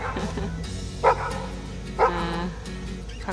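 A dog gives two sharp, separate barks about a second apart over a low, steady room hum, fairly close, with no talk between them.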